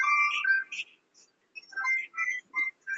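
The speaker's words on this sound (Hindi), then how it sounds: "फोन आ रहा है" A mobile phone ringtone goes off during a maths lesson, playing a short electronic melody in two bursts separated by a brief pause, moderately loud and heard alone.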